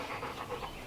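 Dogs panting with quick, breathy rhythmic huffs close by, soft and steady with no talking.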